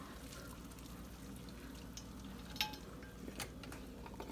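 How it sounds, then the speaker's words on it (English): Cooked pasta being strained, the water draining out in a steady wash with a few metallic clinks of a pot and colander; no talking. "so now we're gonna go ahead and strain our pasta"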